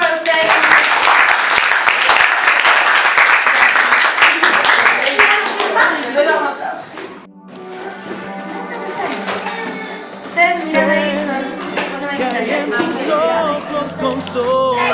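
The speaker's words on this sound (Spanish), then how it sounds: "¡Aplausos para ustedes!" Audience applause at a school graduation ceremony for sixth graders, a burst of clapping mixed with children's voices for the first half, then dropping away as music and talk take over.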